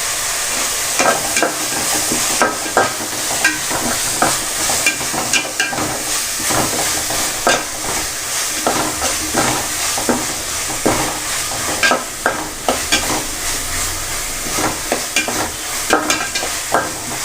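Curry leaves and two green chillies fry in an onion-tomato masala for a fish curry, a steady close sizzle and hiss running throughout while a spoon stirs and scrapes the pan in frequent bursts.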